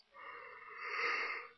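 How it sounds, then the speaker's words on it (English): A single breathy yawn, short and close, rising to a drawn-out airy peak before trailing off. "I am yawning a lot."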